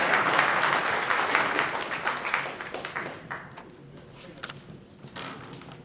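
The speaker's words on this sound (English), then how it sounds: "let's give one more round of applause" Audience applause at a California Wrestling Hall of Fame lifetime service awards ceremony: a dense round of clapping fills the hall, then thins out into scattered claps as it fades.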